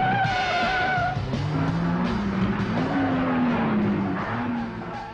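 A car drives past close by and nearly hits another, its tyres letting out a long, wavering screech over a loud engine roar that fades toward the end, with no voices.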